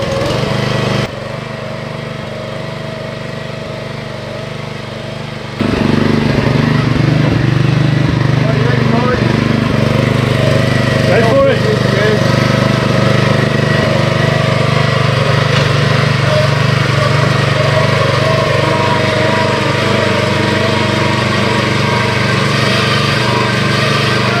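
Lawn mower engine running with the choke on at the start of the mowing season, a steady close drone that steps up louder partway through, with people talking over it.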